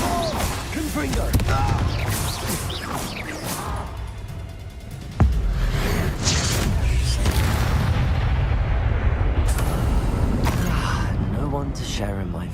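In Hogwarts Legacy, a Confringo fire spell goes off with a heavy booming blast midway, set against dense game effects and speech that run throughout.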